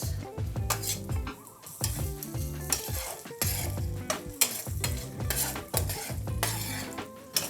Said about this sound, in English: Our garlic has been cooking in here for 2 minutes.